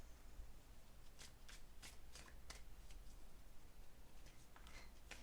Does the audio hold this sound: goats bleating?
no